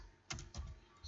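A computer keyboard clatters as C++ code is typed, in two or three short bursts of quiet, close keystrokes with no voice over them.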